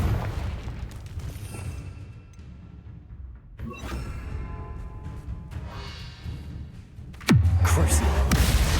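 Confringo fire spell blasting in Hogwarts Legacy, a booming explosion that erupts near the end after quieter rumbling, bursts and scattered effects.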